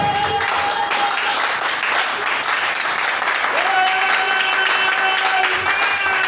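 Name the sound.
congregation cheering and applauding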